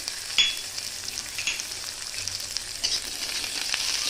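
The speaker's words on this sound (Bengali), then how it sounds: "রসুনটাও ভেজে নিয়েছি" Chopped garlic frying in oil in a pan, a steady close sizzle and crackle running throughout with light stirring clinks and no voices.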